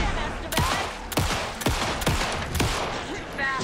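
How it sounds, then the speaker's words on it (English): Several sharp gunshots from the video game Alan Wake II ring out at irregular intervals, loud and close, with brief echoing tails between bursts. "pin him down with gunfire"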